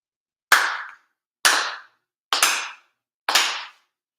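Four sharp, sincere hand claps at a Shinto-style prayer during a monthly Tenchi Kane no Kami ceremony, evenly spaced about a second apart, each crisp with a short ringing decay in a quiet room.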